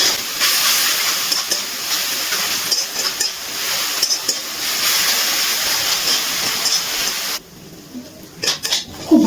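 Spices being fried and stirred in a pan for a Bengali prawn and banana flower dish, a steady close sizzle and hiss with utensil scraping that drops away near the end.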